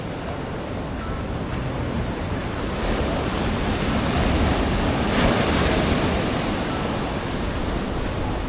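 Ocean surf rolls onto the beach at Uluwatu, Bali, a steady broad roar of breaking waves with wind noise on the microphone, swelling a little louder midway and continuing without pause.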